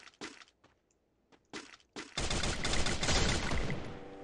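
Gunfire in the Free Fire video game: a few sharp, separate shots, then a dense, sustained burst of rapid automatic fire that carries on loudly to the end.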